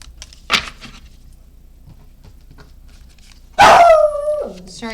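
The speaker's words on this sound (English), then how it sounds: "Sorry about my dogs." Pet dogs at home give one short bark, then a loud, close bark that trails into a whine after a few quiet seconds, with no talk.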